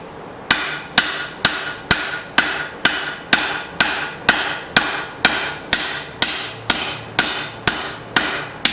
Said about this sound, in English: Next heat, I'm going to flip it, use my straight peen, let the face of the anvil take out the peen marks on the opposite side